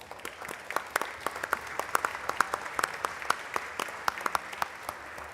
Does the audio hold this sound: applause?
yes